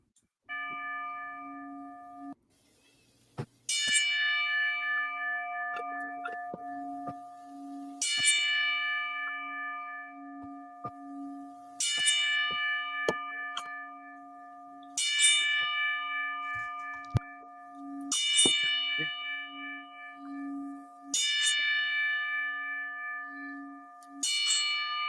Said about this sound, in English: That's the 10 bell salute.